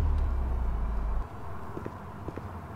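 A car in the video game Denizen gives a deep, steady engine drone for about a second before cutting off, leaving a quieter background with faint scattered taps.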